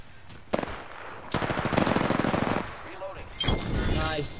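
Video game gunfire rattles in bursts of rapid automatic shots, close and loud, with a sharp electronic tone near the end and brief voices around it.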